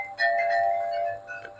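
Outdoor glass wind chimes stirred by the wind, bright overlapping rings that sustain and fade, then a couple of softer late clinks, close and fairly loud with no voices.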